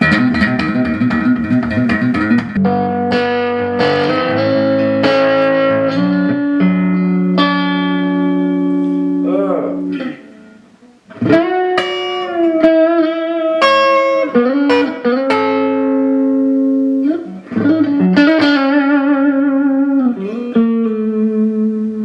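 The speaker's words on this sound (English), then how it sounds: "If I play a riff, you can hear it going out of tune." A loud distorted electric guitar with very high action plays a riff of sustained, slightly wavering notes that drift out of tune, pauses briefly, then continues alone.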